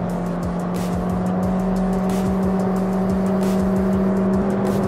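A new MG VS HEV hybrid car with a 1,500cc engine drones steadily as it accelerates to overtake traffic, with a constant hum and repeated rushing swishes of passing air and road noise.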